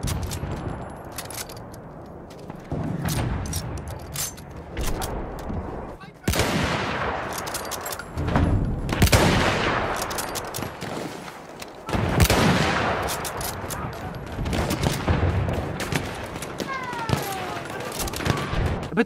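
Mosin Nagant rifle gunfire from a World War 1 video game, with repeated loud, sharp shots and booming volleys scattered among other battle noise, plus a voice talking at times.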